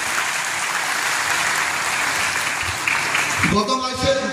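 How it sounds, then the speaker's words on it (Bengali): Loud applause for Indian Army soldiers at a youth wing felicitation event for schools in Khowai, a steady wash of clapping that gives way near the end to a voice over a microphone. "বীর জওয়ানদের জন্য একটা জোরে করতালি চাইব প্রত্যেকের কাছ থেকে"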